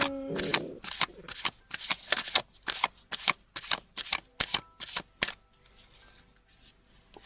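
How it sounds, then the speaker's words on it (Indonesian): A deck of oracle cards is riffled and shuffled in a quick run of about a dozen sharp, evenly spaced bursts, close and crisp, before trailing off into quiet room tone. "Kita akan ambil 3 kartu ya dari deck yang lain"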